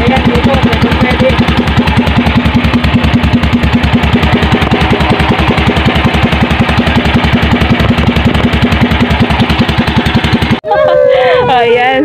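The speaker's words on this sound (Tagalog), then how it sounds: "binibrake natin yung ating makina dito" A new boat engine being broken in runs loud and close in a fast, even chugging throb, holding steady for about ten seconds before it cuts off abruptly, leaving quieter background sound.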